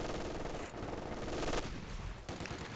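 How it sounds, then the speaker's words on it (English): Rapid, continuous machine gun bursts rattle in a World War II strategy game, dense and steady with brief gaps between volleys and no voices. "This MG is giving Mark no end of headaches."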